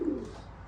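An old racing pigeon gives one brief, low, soft coo, close by and fairly quiet, heard alone.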